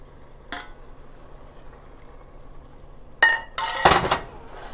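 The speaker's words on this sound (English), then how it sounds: "we're stirring it constantly until it's absorbed" Spoon stirring risotto in a pot, a faint clink early on, then several loud, close metallic scrapes and knocks against the pot near the end over a quiet background.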